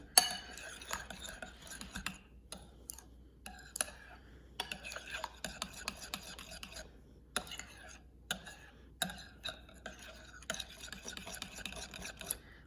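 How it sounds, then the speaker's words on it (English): Clear and white glue being stirred together in a container for slime, with irregular scraping and clinking strokes in bursts separated by short pauses, close and fairly quiet. "I've got half a cup of clear and half a cup of white, and I'm going to stir that up until it's mixed in good."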